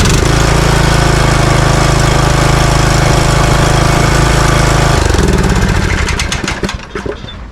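A Briggs & Stratton riding mower engine runs loud and close with a steady droning rumble, then winds down into uneven sputtering chugs as it slows toward the end.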